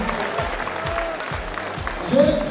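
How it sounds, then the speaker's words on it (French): Applause from a comedy show audience at a comedian's performance, a steady mid-level patter of many hands with a voice speaking over it near the end. "applaudissez pour vous"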